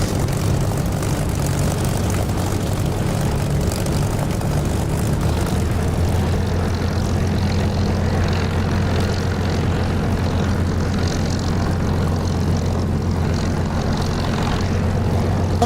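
Loud, steady engine drone of an aircraft taxiing along an airfield taxiway in the DCS flight simulator, constant and close throughout with no voices.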